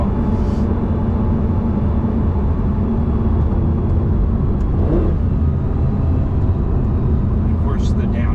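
A Lamborghini Gallardo driven in sport mode, its engine a loud continuous drone with shifting pitch heard from inside the car, a voice faintly present under the roar.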